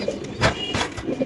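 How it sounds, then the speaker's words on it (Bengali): A pair of Danish pigeons coos softly in a loft, a few short close calls of low throaty tone in quick succession, faint and alone. "এখানে এক জোড়া কবুতর"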